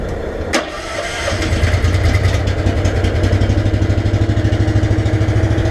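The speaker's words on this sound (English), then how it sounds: "so now we start the Honda" A Honda engine on a heavy-haul truck gives a sharp click, then cranks over and catches, settling into a loud, rhythmic idle close by.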